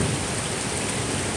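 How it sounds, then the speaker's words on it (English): Heavy rain pours down during a severe thunderstorm, a dense, loud, continuous hiss of downpour with no gaps and no voices. "Whoa, we're getting a lot of rain now."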